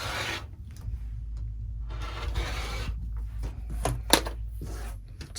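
Rasping, rubbing scrapes of a sewn fabric tree quilt block being trimmed to size, close and fairly loud strokes in uneven bursts with a sharper snap near the end, no one speaking.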